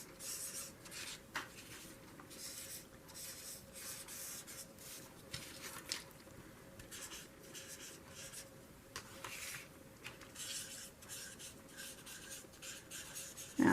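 Drying distress markers scratch and rub across paper, a steady dry scritching with irregular louder strokes continuing alone throughout.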